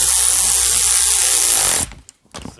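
A power tool tightens a bolt on a fan shroud with a continuous high whirring drive close by, cutting off sharply after about two seconds and followed by a few light clicks and knocks.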